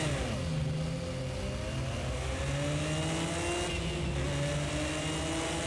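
Nissan Skyline R32 engine in Project CARS 2 pulling away from a standing start in first gear, a loud, steady mid-pitched drone rising through the revs across the whole stretch, with other cars audible nearby and no talking.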